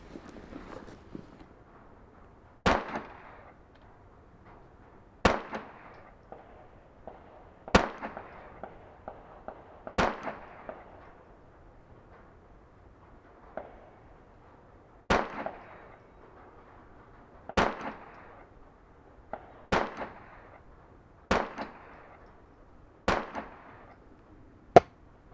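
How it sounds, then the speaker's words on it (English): A Brownells 10/22 takedown rifle fires about ten sharp, loud single shots at an outdoor range, each a crisp crack with a short decay, spaced a few seconds apart and with no talking. "let's start shooting."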